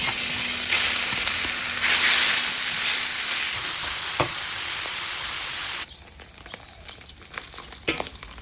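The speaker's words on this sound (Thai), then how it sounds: "เรามาเจียวหมู" Loud, steady sizzling of pork belly frying in a pan, with a few stirring clicks; the sizzle drops sharply partway through, then continues quieter.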